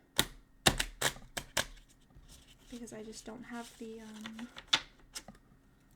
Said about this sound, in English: I'm currently like splitting the cards into 8 different like small stacks to then shuffle